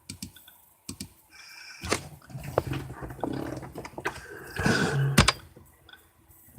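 Fingers tap on a computer keyboard in short, irregular bursts of close clicks, mixed with a few thunks and light rustling.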